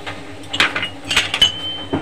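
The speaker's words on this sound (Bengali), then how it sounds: "এবার একটু হলুদ দিয়ে দেবো তেলের মধ্যে" A utensil stirs turmeric through hot oil in a pan for a raw-banana bhorta, giving a few sharp metallic clinks and scrapes against the pan with quiet gaps between them.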